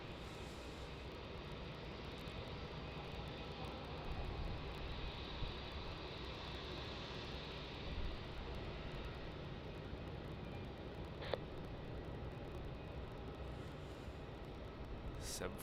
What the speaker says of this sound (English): cargo Boeing 747-400 freighter, SQ flight 7293, arriving in from Auckland.